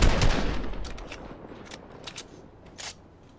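Video game gunfire opens with a rapid automatic burst, then a few scattered shots echo more faintly as the shooting trails off.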